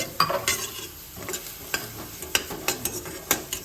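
Puffed rice is stirred and roasted in a pan, giving a steady dry rustling sizzle broken by regular scraping strokes of the spatula, close up with no talking.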